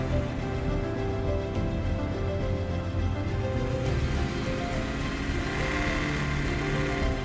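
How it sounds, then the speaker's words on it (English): A vintage Land Rover Discovery engine idles just after ignition and fuel injection work, its loud exhaust giving a steady, dense, rumbling drone that holds constant and close throughout. "The obnoxious exhaust is a little distracting."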